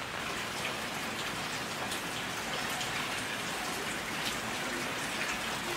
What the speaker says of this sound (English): listen to the rain to help you sleep